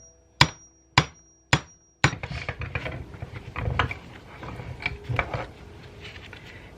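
Hammer lightly tapping a part into a power steering pump during a rebuild: three sharp, evenly spaced metallic taps close by, followed by a cluster of softer knocks and rattling handling noises.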